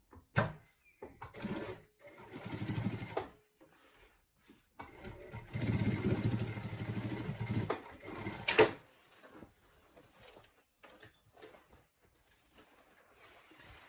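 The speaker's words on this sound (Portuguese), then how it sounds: "jogando o forro para um lado e o fole para o outro, eu vou rebater essa costura" A sewing machine topstitches a backpack seam in short bursts, fairly quiet, stopping and restarting between brief runs, with faint background sounds in the pauses.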